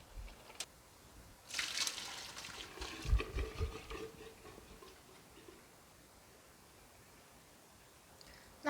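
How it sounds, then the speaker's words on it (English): Hot spaghetti water pours from a pot into a drain, a short, soft splashing rush that fades after a few seconds, leaving quiet kitchen background. "Our spaghetti is finished, time to drain."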